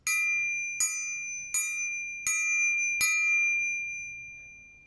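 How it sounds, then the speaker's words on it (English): A metal triangle struck five times at a roughly steady pace, each bright ring sustaining and overlapping the next, close and clear with no talk. "Now I have a triangle here. I'll play it for you a few times."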